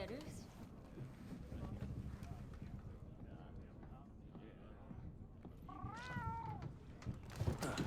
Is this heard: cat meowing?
yes